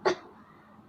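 A single short cough from an ill woman whose cough has grown worse, quick and fairly close, followed by a faint breathy tail.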